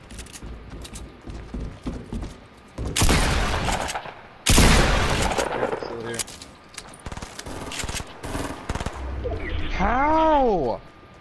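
Loud bursts of gunfire in Fortnite, two heavy volleys up close followed by scattered shots and clatter, with players talking over parts of it.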